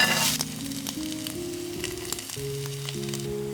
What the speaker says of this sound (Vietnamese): cho ngược lại vào chảo để chiên chín mặt trên nha